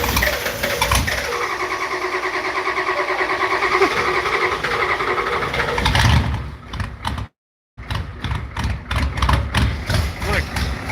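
An indirect-injection diesel engine idles with a rough, chugging rumble, then drops out briefly and resumes with a pulsing, uneven surge, heard up close with voices in the background.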